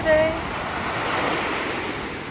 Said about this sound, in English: Nice waves in the back.